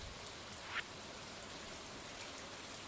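Steady rain in the farming video game Stardew Valley, a continuous soft hiss of falling drops with a few faint patters, constant throughout and no voices.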